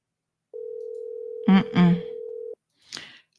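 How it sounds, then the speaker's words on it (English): An outgoing WhatsApp call rings back with one steady, unbroken tone that lasts about two seconds at moderate volume, while a voice speaks briefly over the middle of it and again just after it stops. "Can y'all hear that phone ringing?"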